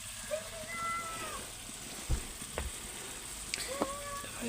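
Spices frying with a little water and salt in a pan for a Bengali tangra fish curry, a soft continuous sizzle with a few clinks and stirring knocks, and faint background tones.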